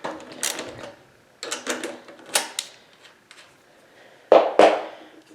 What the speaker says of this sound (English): The air filter has these two bolts here, and that requires a 10mm wrench.